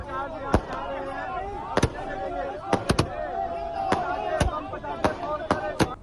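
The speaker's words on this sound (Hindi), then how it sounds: "आतिशबाजी के साथ जश्न मनाया जा रहा है।" Repeated loud firework blasts go off at a street celebration in Haryana, roughly ten sharp cracks in uneven succession over a steady crowd murmur and whistles.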